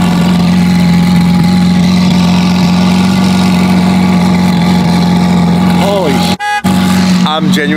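Twin-turbo Lamborghini Aventador SVJ V12 running: a steady, loud idle drone close by that holds evenly for several seconds, with a few brief revs near the end, a short drop-out and people talking over it.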